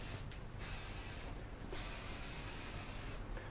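Hairspray hisses from an aerosol can in long continuous bursts, close and fairly loud, with two brief gaps where the nozzle is released before spraying resumes.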